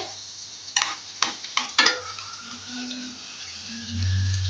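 Pork garlic kebab frying in a pan, a steady oily sizzle broken by several sharp clinks of a utensil on the pan, then a louder low bubbling hiss at the end.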